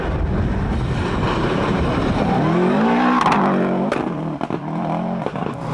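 A Snapper Subaru rally car competes in the 1998 Toshiba Rally. Its engine roars loud and close, revving up and down through gear changes with a rising, straining pitch, and no talk is heard.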